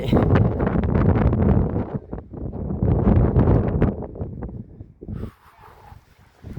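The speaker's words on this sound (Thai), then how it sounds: "ลม" Strong wind buffets the microphone on a mountain in Savannakhet, a loud, steady roaring rush that drops off near the end, leaving quieter gusty air.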